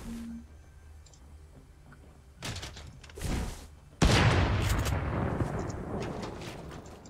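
Gunfire in a Fortnite match, including a sniper rifle shot, comes as sharp bursts followed by a loud, sustained blast of game explosions and noise, with no voices.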